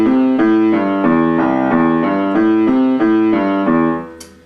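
Boogie rock'n'roll piano left-hand lick running up to C in a two-bar repeating pattern, steady rolling bass notes played loud and alone, fading out at the end.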